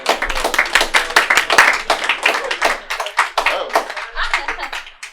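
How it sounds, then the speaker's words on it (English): Applause for a comedian at a live comedy show, brisk close clapping from a small crowd with sharp distinct claps that thin out toward the end. "Round of applause for Declan Shannon."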